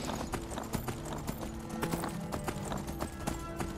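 A horse gallops in the video game Skyrim, a steady, rapid clip-clop of hooves repeating throughout, close and prominent over a low in-game background.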